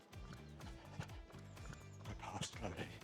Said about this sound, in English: Some more horses coming.